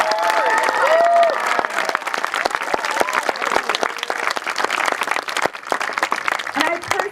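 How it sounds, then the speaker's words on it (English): Audience applause for the range crew at a TARC 2012 rocketry awards ceremony, a dense sustained clapping of a large crowd with scattered louder claps and voices murmuring underneath throughout. "let's give it up for them right now for all the huge range crew."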